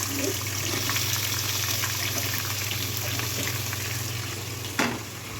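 Small onion pieces fry in hot oil in a pan with cashews and curry leaves, giving a dense, continuous sizzle and crackle heard up close, with a low steady hum underneath and a brief clink near the end.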